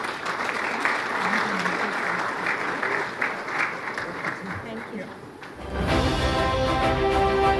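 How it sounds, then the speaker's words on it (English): A symposium audience at the CLFMA of India national event claps in a loud, sustained round of applause for about five seconds, and then music with steady tones starts up over the fading clapping. "Big round of applause for Dr."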